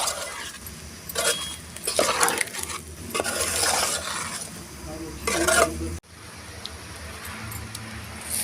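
Liver fry being stirred with coriander powder in a pan, a close sizzle with scraping spoon strokes against the metal, which quiets after a cut to softer frying.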